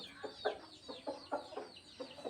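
Hens cluck repeatedly in short, rhythmic bursts, fairly close, with no one talking.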